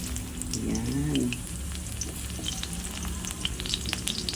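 Garlic hits a hot pan for chop suey and fries with a continuous crackling sizzle, louder at first and then settling into a steady close hiss.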